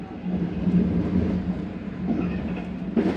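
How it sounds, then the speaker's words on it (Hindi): A Karakoram Express passenger train runs along the Multan division track near Abdul Hakim station, with a steady, loud low rumble of wheels and carriage noise heard from inside, continuous throughout with a brief bump near the end. "अब्दुल हकीम रेलवे स्टेशन के नज़दीक है हमारी ट्रेन"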